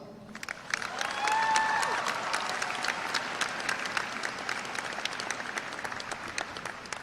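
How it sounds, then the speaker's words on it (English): A large graduation audience at a high school commencement breaks into sustained applause, dense clapping swelling early and holding steady throughout, with a few cheers and whistles rising above the crowd. "Could everyone here give themselves a massive round of applause?"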